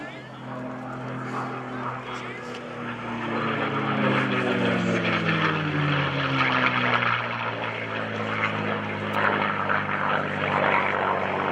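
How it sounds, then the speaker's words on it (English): A P-51D Mustang piston-engine fighter with laminar-flow wing makes a flyby at an air show open house, its propeller drone swelling loud and steady with shifting harmonic pitch as it passes, over crowd and wind noise. "Let's watch and listen to Vlado Lenoch and the Mustang"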